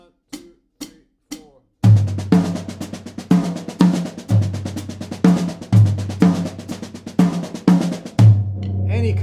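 Drum kit played in Indian-style phrasing that moves accents between the low tom and high tom, following a few soft count-in clicks with dense, fast strokes and booming accented tom hits, close and with no voices.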